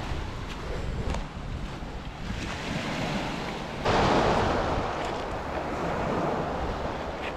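Surf rolling onto a beach at Crail on a breezy day, a steady wash of breaking waves with wind rumbling across the microphone and a louder surge midway through, no voices.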